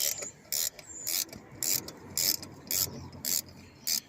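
Ratchet wrench undoing the air intake support on a Seat Leon during ignition coil work, a series of about nine short, sharp clicking bursts in an uneven rhythm, close and crisp over a faint background hum.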